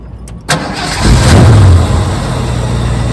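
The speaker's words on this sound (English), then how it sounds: "So I'll start it up, we'll have a listen to the engine and exhaust" A 1966 Ford Mustang GT convertible cranks and fires up, its V8 catching after a brief starter whir, then settling into a loud, steady idle with a deep exhaust rumble close by.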